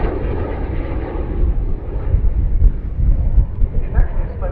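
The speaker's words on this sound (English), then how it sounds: "this is a Canadair Sabre, as I mentioned, with the Canada Orenda engine" A Canadair Sabre Mk.6 jet with its Orenda engine and smoke generator passes at a Duxford air show, a loud rumbling roar that swells midway, buffeted by wind noise.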